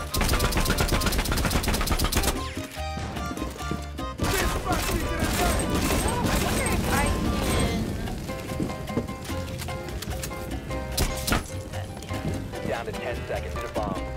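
Rapid gunfire from a full magazine being emptied in the Rainbow Six Siege video game, dense and loud over a busy mix of game effects, with a person talking over it.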